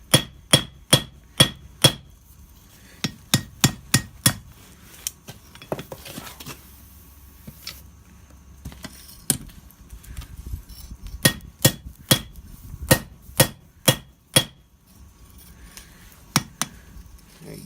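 A horseshoe being forged into a knife blade is hammered on an anvil with sharp, ringing metallic blows, struck in quick rhythmic runs broken by short pauses, close and loud with no talking.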